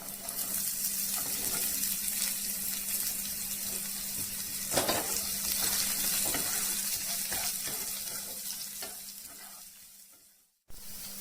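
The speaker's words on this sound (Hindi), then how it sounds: "सेथिरे हमें एबे कटा हिथिबा पियाज पकई भाजीबा" Chopped onions frying in a pan for palak paneer, a steady dense sizzle with a faint stir partway through, close and continuous before stopping abruptly near the end.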